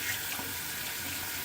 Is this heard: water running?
yes